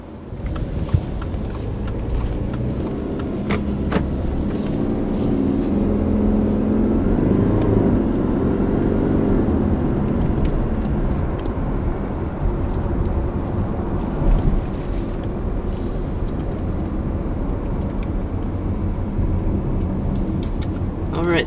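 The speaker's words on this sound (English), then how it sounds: "So initially taking off in the 2020 Ascent" Inside a 2020 Subaru Ascent SUV pulling away on the road, a steady low engine and road rumble continues, with someone talking over it.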